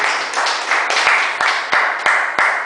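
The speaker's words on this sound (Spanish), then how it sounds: "Den un aplauso al Señor." A church congregation claps during a sermon, with sharp, loud clustered claps landing in a rough steady rhythm, about seven distinct bursts close together over a brief stretch.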